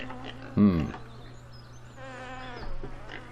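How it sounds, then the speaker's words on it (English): Flies buzz around a pig pen in the farming game Farming Simulator 2013, a steady wavering drone under a sudden bleating animal call, with faint ambient farm noise. "And the sounds of flies buzzing around. Well, that's pretty realistic."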